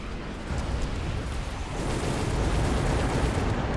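Vulcan units in the strategy game Mechabellum spray fire across a battlefield, a continuous loud roaring, crackling rush of flame and explosions that swells slightly partway through without a break.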